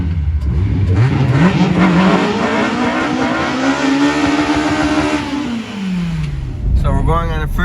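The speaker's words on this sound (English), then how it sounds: "So we're going on a first test drive in the car." A car accelerating hard on a first test drive, the engine note climbing in pitch through the gear and then dropping as it eases off, loud and close with voices heard toward the end.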